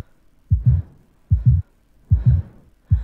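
A steady double-thump heartbeat in a video game, each lub-dub pair deep and close, repeating about once a second against near silence.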